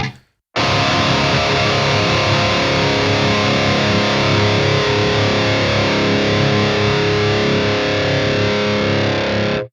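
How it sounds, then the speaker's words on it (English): A distorted electric guitar chord rings out after a brief silence, sustained and buzzing with rich harmonics, loud and close, slowly decaying before cutting off. "this is just a really good sounding amp"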